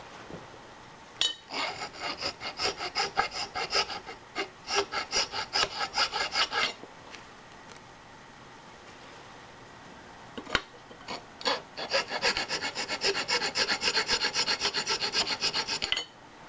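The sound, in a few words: deburring metal stock with a file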